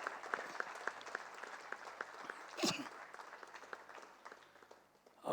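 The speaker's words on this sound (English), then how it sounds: "You have a round of applause for him." A crowd at the Pune regional finals of a quiz competition claps for the runner-up, a light and fairly distant patter of applause with a brief louder rustle partway through.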